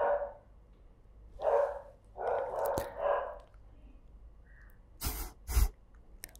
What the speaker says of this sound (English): Doggy dogs going crazy.